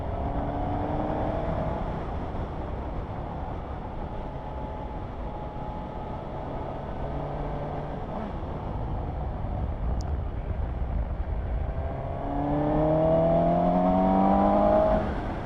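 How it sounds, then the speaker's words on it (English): A 2020 Suzuki GSX-S750 motorcycle cruises with a steady engine drone and wind rush, then its induction note swells loudly as the throttle is twisted, with rising gear-by-gear revs near the end. "induction sound when you give the throttle a twist."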